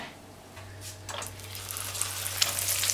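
Chicken schnitzel starts sizzling in a frying pan, the crackle building from quiet to a steady, louder fry over a few seconds, with a faint low hum underneath.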